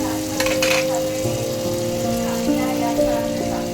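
Cumin seeds sputter and fry in hot oil in a pan as a tempering for lemon rice, a dense close-up crackling sizzle lasting a few seconds under a faint steady background hum.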